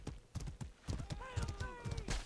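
Horse hooves clip-clop in a competitive online match of the game Smite, a rapid run of hoofbeats heard under an excited esports commentator's voice and busy game effects.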